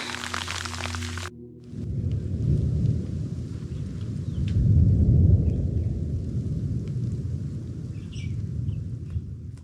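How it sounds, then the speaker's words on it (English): Steady, dense rumble of a heavy storm with rolling thunder and a constant wash of pelting hail, loud and continuous throughout, in the Victorian Alps near Mount Bogong. "It's now hailing."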